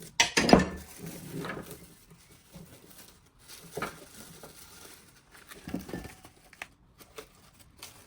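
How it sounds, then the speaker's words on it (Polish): Pieces of dough for a Polish cake being wrapped in plastic food wrap before freezing, with crinkling and rustling film, soft pats and a few clinks of kitchenware. The sounds come in irregular bursts with quiet gaps. "Teraz te wszystkie części musimy zawinąć w folię"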